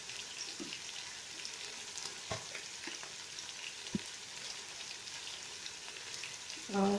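Ground spices including coriander powder and turmeric frying in a pan for kadhi pakora, a faint, steady sizzle with a few scattered clicks and a brief louder rustle at the end.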